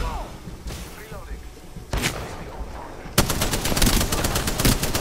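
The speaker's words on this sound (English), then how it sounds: "They're shooting over there, Josh." Video game gunfire: quiet background with faint distant shots, then a loud burst, and finally sustained rapid automatic fire dominating the last couple of seconds.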